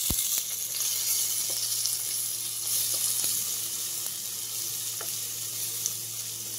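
Ginger garlic paste frying in a pan with onion and tomato: a steady, close hiss and sizzle throughout, with faint scraping stir clicks scattered across it and no voices.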